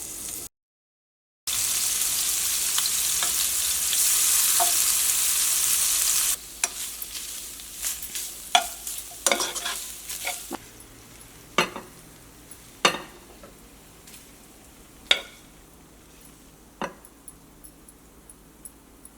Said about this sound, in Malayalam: മീൻ വറുക്കാൻ വേണ്ടിയിട്ട് ഇടാട്ടെ.